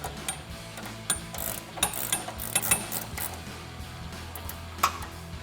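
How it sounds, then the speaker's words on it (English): A 17mm ratcheting wrench tightens a nut during a suspension lift install, giving a series of close, crisp ratchet clicks in uneven bursts and short strokes, with no speech. "I'll grab that 17mm ratcheting wrench and tighten that down"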